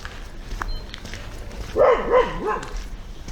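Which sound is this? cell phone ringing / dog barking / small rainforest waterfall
dog barking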